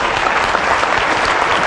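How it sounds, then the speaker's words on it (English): Audience applause at a leadership speaker's talk, dense and steady clapping filling the room close up for a short burst without pause. "Let's give her a round of applause."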